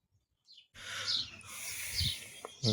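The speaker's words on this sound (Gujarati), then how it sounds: "સવારમાં આપણે ચકલિયા માટે મસ્ત મજાના ચોખા આપી દીધા છે." Small birds, sparrows, chirping on a rainy morning outdoors near trees, a steady chatter of high calls over soft background noise, starting after a brief quiet moment.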